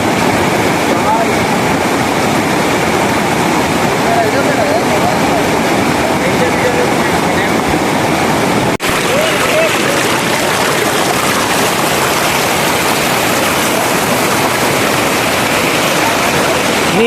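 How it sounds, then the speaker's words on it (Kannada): Fast-flowing river water at Dandeli roars loud and steady throughout, a dense close rush with no pauses, faint voices buried beneath it. "ನೀರು ಭಾಳ ಸ್ಪೀಡ್ ಬರತ್ತವ"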